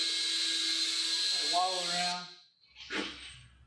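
A drill chamfers the edge of a 9/16-inch hole for a wake tower mounting pad on a boat, giving a steady high whine for about two seconds, then a brief rough burst as it winds down.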